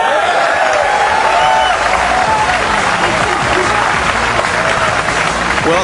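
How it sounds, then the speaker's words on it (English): Big pool-hall crowd at a Francisco Bustamante versus Nick Van Den Berg match erupts in sustained applause and cheering as the 9-ball drops, a dense, loud wash of clapping and shouts throughout. "a huge cheer of relief when this 9-ball drops"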